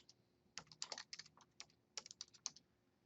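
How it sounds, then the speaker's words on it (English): Typing on a computer keyboard while entering text in a text box, heard as irregular bursts of close, crisp key clicks with short pauses between clusters, with no talking. "I'm going to start typing in this text box"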